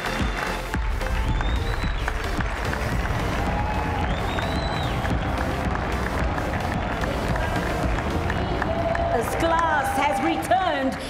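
Sustained audience applause fills a hall at the 2024 CSA Professional Awards cricket ceremony, steady and loud throughout, with crowd noise and a few cheers mixed in.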